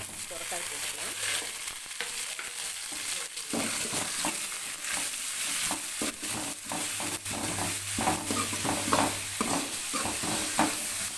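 Onions and curry leaves fry in oil after mustard seeds have popped, for a bottle gourd curry. A continuous close sizzle carries repeated spoon scrapes and stirring clatter, with no talk over it.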